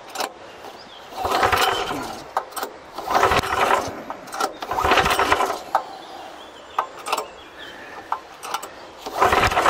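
A tracked motorized wheelbarrow, recently tipped over, is cranked without the choke: repeated pull-start bursts of mechanical whirring and clatter that sputter without catching, with short knocks and rattles between attempts, close and fairly loud.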